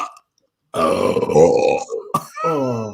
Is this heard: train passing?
no